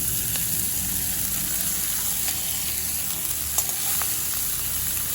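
Chopped fenugreek greens drop into potatoes frying in a pan, raising a steady, fairly loud sizzle with a few soft clicks and stirring knocks, no voices.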